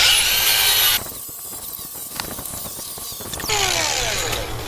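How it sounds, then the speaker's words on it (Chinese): A wire brush on a grinder scours the rusty steel of an air compressor tank ahead of welding, a loud rough whirring that drops into scratchy grinding contact and then rises back to full free spin. "所以我们先把这2边磨掉"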